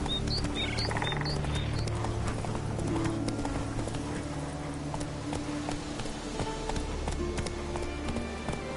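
Roach the horse gallops in The Witcher 3, rhythmic rapid hoofbeats pounding steadily up close, with a few bird chirps early on and game ambience beneath.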